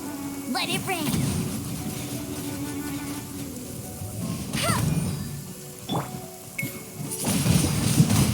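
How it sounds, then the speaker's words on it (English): Rain in the Genshin Impact video game hisses steadily as a soft wash of noise, with game voices and brief character sounds rising over it now and then. "Let it rain."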